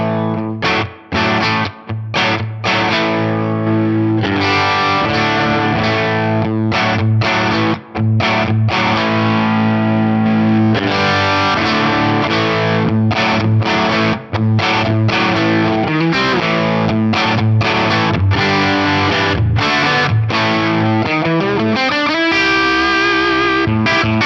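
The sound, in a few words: electric guitar, Strat bridge pickup, through two compressors into amp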